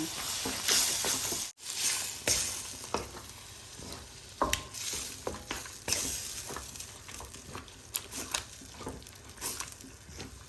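Pork macaroni sauce with tomato, chili sauce, fish sauce and sugar being stir-fried in a pan, giving a steady sizzle with irregular scraping stir strokes, close and moderately loud, with no talk.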